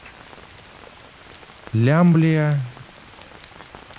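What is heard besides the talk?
rain falling in Green Hell video game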